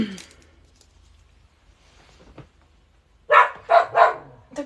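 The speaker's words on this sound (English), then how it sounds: "what are you barking at?" An indoor dog barking close by, three loud barks in quick succession near the end after a quiet stretch with faint sounds.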